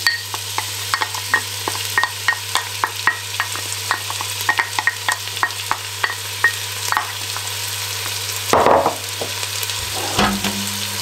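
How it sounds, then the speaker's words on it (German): Onion and garlic frying in a pan for Bolognese sauce: a continuous sizzle broken by regular spatula taps and scrapes against the pan, with a louder clatter near the end. "Für die Bolognese-Soße brate ich jetzt hier einmal Zwiebel und Knoblauch an."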